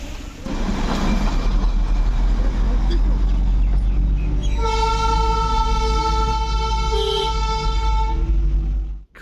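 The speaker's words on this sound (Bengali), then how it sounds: "টয় ট্রেন দেখে যদিও রিহান খুব এক্সাইটেড হলো" Darjeeling toy train passing close by, a steady loud rumble with a long sustained horn blast in the second half, surrounded by road traffic noise.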